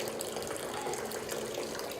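Hot 170-degree water poured gently over a grain bed during sparging while brewing a Belgian Tripel, a soft, steady trickling splash heard close and quiet, with no talking.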